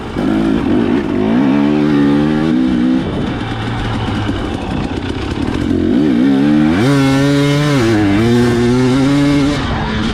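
A 2018 Husqvarna-style TE250 two-stroke dirt bike fitted with a JD jet kit rides continuously, its engine droning and revving up and down in steady pulls, loud and close throughout.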